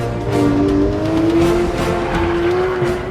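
Porsche 911 GT3 on a race track, its engine holding a strong steady tone that climbs gently through a pass with faint tire squeal, loud and close throughout with no talk.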